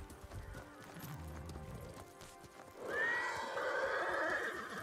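A horse in the samurai game Ghost of Tsushima lets out a loud, rising whinny that tails off, after a stretch of hoof clip-clop and quieter movement, set against a low game ambience.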